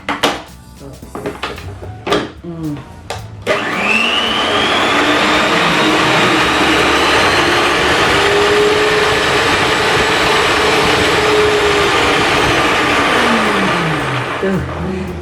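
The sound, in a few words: Miyako SM-625 stand mixer running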